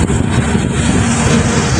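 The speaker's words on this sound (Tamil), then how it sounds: "ஃப்ளைட் ஒன்று போகிறது மேலே பறந்து போகுது." A fixed-wing airplane passes overhead in Dubai, producing a loud, steady engine roar that fills the whole moment.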